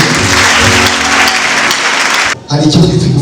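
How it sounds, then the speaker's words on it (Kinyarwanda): A church congregation claps together after a preacher's call, loud dense applause filling the first two seconds, then breaking off briefly before a second burst of clapping resumes. "Komera Yesu amashyi."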